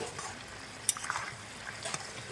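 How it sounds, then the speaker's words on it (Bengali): Chicken curry with garam masala paste is stirred in a pan, giving soft scraping, a few sharp clinks of a spoon against metal and a faint sizzle underneath. "এখন একটু সুন্দর করে নাড়াচাড়া করে নেব"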